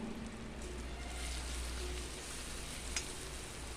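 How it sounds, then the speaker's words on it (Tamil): Masala spices sauté in a pan for a pepper fry dish, giving a soft, even sizzle with a faint stirring scrape near the end, no talk. "இப்போ நம்ம எடுத்து வச்சுருந்த மசாலாலாம் சேர்த்து கொஞ்சம் வதக்கி விடுவோம்"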